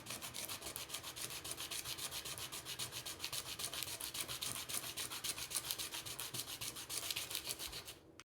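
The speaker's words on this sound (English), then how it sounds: "we do that by, again, sanding from the bottom of the nut" Steady, rhythmic rasping of sandpaper rubbing back and forth against the bottom of a banjo nut, close and fairly quiet, continuing without pause.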